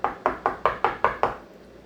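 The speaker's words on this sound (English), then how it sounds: "Someone's at the door." Seven evenly spaced sharp knocks on a door, close and loud, in a quick steady rhythm before stopping.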